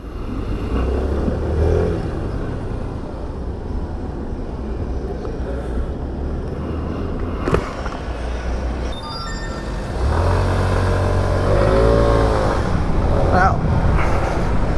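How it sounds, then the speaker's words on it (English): Scooter ridden through Bucharest city traffic, a steady close road and engine drone with wind throughout, a brief knock near the middle, then a louder, fuller surge of passing traffic toward the end, with a voice talking over parts of it. "This is how you ride a scooter in Bucharest."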